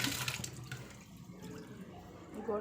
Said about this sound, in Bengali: ঠান্ডা জল দিয়ে ধুয়ে নিচ্ছি